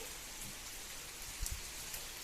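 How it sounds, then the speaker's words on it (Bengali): Rain falls in a steady, faint hiss of drops, with a few soft, closer thuds of drips landing on a surface partway through. "এদিকে বৃষ্টি হচ্ছে"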